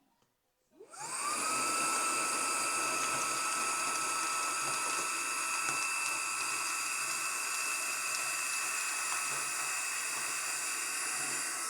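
Portable WindGallop air compressor pump running on manual setting to suck air out of a clothing storage bag, starting up and then holding a steady, loud, continuous high-pitched whine with hiss for the full length, with no talking.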